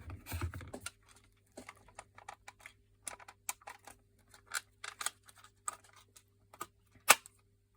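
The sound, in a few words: plastic panel part clicking into place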